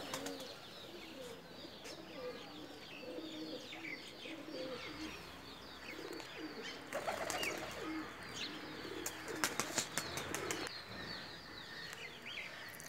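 A female Teddy Pakistani pigeon gives quiet, rhythmic coos, then breaks into quick bursts of wing flapping, with a few sharp flutters near the end, heard up close in a calm setting without talk.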